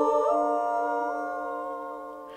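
Percussive remix sound built from an audio file in the SIOE sample processor app, a sustained tonal, howl-like processed tone that slowly fades, ending with a brief noisy burst, no voices.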